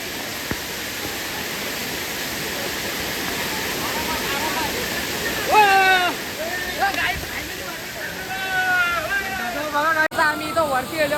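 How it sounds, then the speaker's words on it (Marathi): Steady, loud rush of a waterfall at Malanggad fills the whole scene, with voices talking over the constant roar. "तुम्ही बघू शकता इकडं वरती धबधबा"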